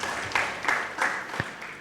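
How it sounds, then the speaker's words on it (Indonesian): Congregation clapping during a church worship service, a brief burst of rhythmic, fairly even claps heard at moderate distance in a reverberant hall. "Yang mau berikan tepuk tangan yang meriah buat Tuhan kita"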